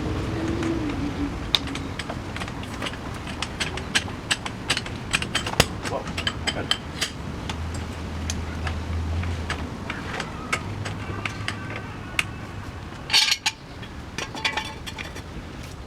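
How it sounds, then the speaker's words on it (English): Jacking up a 2005-2014 Jeep Grand Cherokee onto a jack stand in a garage: rapid ratcheting clicks and mechanical clatter with scattered metallic knocks, a low hum in the background and a louder clunk near the end. "let's go ahead and jack up the vehicle and set it on a jack stand"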